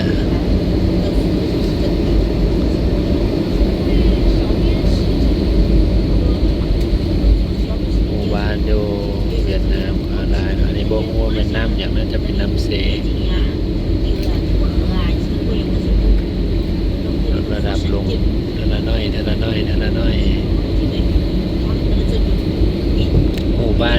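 A passenger airplane landing at Da Nang airport in Vietnam, heard as a loud, constant roar and rumble from inside the cabin with faint voices underneath.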